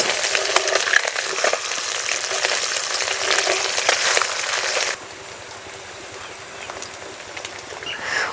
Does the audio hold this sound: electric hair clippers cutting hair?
no